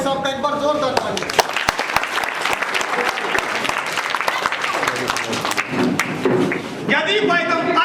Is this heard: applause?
yes